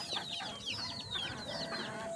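Pet chickens cluck busily at feeding time, a close flurry of overlapping short calls and rising squawks from several birds over a soft rustling background.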